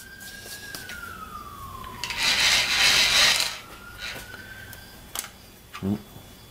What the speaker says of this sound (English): Both sides of the cutter cutting.